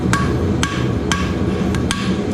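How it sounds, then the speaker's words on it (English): A hammer strikes hot steel at an angle while forging a blunt point on a J hook: five sharp, ringing metallic blows at uneven intervals, close and loud over a steady background roar. "I'm striking with my hammer also at an angle."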